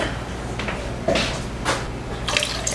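Warm water poured into large mixing bowls for dough, a few separate splashy pours and trickles close by in a kitchen, with no talking.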